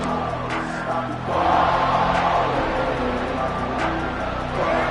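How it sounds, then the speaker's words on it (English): A football stadium crowd roars during a game, a broad sustained wash of cheering that swells louder partway through and stays dense and distant-sounding. "These fans are going absolutely nuts."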